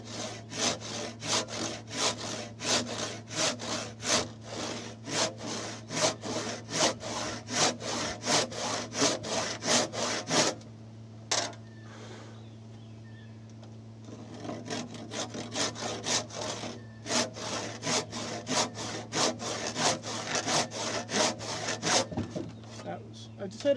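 Hand saw cutting wood for a timber frame king post joint, a long run of quick, steady rhythmic strokes, loud and close, pausing briefly partway through before the sawing resumes, with a low steady hum behind.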